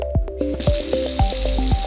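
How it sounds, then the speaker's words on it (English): A Franke Omni kitchen tap runs hot water into a sink, a steady broadband rush starting partway in, with clinks and small knocks of handling over a low hum. "and hot water from your home heating system naturally."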